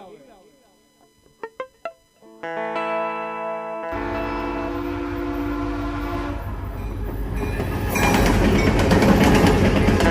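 A train rumbles in with a loud horn blast and rising clatter of wheels, growing louder toward the end, after a few brief tones at the start.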